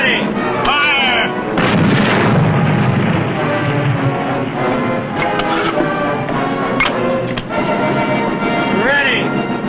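Submarine deck gun firing rounds in sharp, loud reports spaced a few seconds apart, with shouted commands and voices between the shots.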